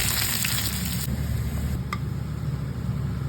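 Chopped onions hiss loudly in hot oil that earlier fried dried chillies and garlic, a close, continuous, dense sizzle with no pauses.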